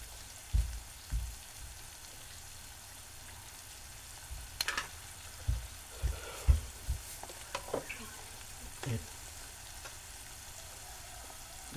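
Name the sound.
onion frying in a pan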